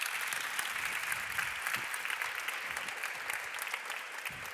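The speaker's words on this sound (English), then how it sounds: "Give her a round of applause" An audience applauds a CEO coming up to speak at a partnership event, a sustained, even wash of many hands clapping at moderate distance, without talk over it.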